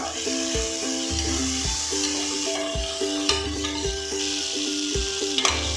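Mint and coriander leaves sautéed with onion and tomato for pressure-cooker mutton biryani give a steady close sizzle with repeated scraping stirs, while a faint tonal hum runs underneath throughout.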